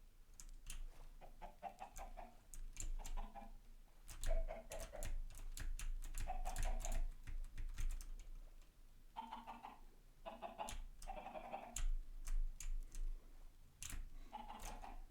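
Chickens in the Minecraft video game cluck in repeated short bursts, crowded together, over a steady backdrop of clicking that sounds like keyboard typing.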